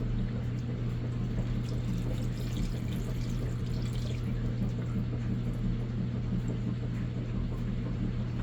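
Hot pasta water pours out of a pot held by hand, strained without a colander, in a steady continuous splashing stream that runs unbroken throughout with no talk.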